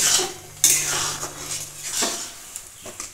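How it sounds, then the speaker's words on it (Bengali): A spatula scrapes homemade tomato sauce, made from home-grown tomatoes without colouring or preservatives, across the sides of a wok, with sharp metallic clanks and a few softer scraping strokes close up. "এইভাবে কড়াইয়ের গায়ে একটু ছড়িয়ে ছড়িয়ে দিতে হবে, তাহলে জলটা খুব তাড়াতাড়ি শুকিয়ে যাবে"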